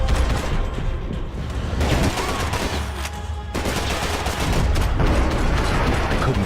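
Sustained gunfire from the video game Max Payne 3, dense overlapping shots and bursts with booming impacts running continuously at close range, loud throughout with no talking.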